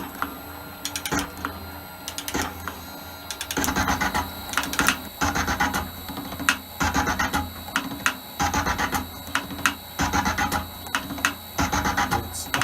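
An Elliott metal shaper cutting steel with a half-millimetre depth of cut, giving repeated rhythmic clattering strokes and ratcheting feed clicks, close and fairly loud with no talk.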